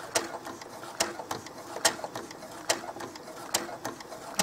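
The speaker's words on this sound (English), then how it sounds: "I'm going to take it in the slowest speed my machine goes so that I can be sure that I'm not going to wander" A sewing machine top stitching doll clothes at its slowest speed, giving a soft, even series of mechanical clicks and ticks, close by and alone, with no talking.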